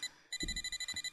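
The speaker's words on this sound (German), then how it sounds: "Mein Telefon?" A telephone rings in a visual novel video game, a close electronic warble pulsing in quick, regular bursts after a brief pause, sounding alone with no voices.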